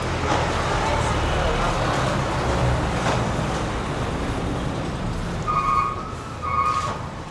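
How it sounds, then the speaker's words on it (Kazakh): Busy street traffic in Cairo, with a dense, continuous roar of many cars and engines close by and a couple of short horn toots near the end, while people talk over the noise. "Шам, машиналар көп."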